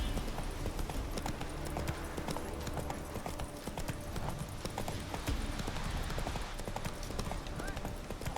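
Roach, Geralt's horse in The Witcher 3, gallops in a steady rapid clip-clop of hooves that runs the whole way through, with talking over it.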